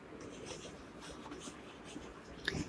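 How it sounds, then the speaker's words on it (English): Chalk or marker writing on a board during a class-6 maths lesson on subtracting fractions, a soft continuous scratching and tapping heard up close with no talk, ending in a brief louder tap. "here we will write"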